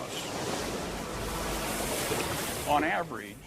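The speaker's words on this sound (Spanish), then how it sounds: "el agua se arremolina para atravesar un estrecho paso de la costa, creando temibles corrientes y torbellinos" Water churns through a narrow coastal strait with currents and whirlpools, a steady broad rushing roar with a louder surge near the end, with a voice speaking over it.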